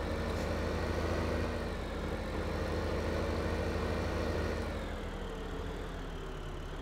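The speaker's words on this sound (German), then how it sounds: "wir haben hier einen super schweren Traktor und man kann mit dem Mähwerk hier nicht normal fahren" A very heavy tractor fitted with a mower in Landwirtschafts-Simulator 2015, its engine droning steadily at a loud, constant level with a low rumble and slight pitch shifts.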